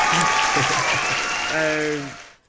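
Applause added as a sound effect in a podcast, a dense burst of clapping with a cheering crowd that plays beneath talk and then fades out.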